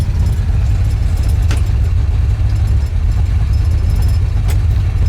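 A 1966 Ford Mustang with 128,000 original miles idles with a deep, steady, rumbling exhaust, loud and close, constant throughout with no talk.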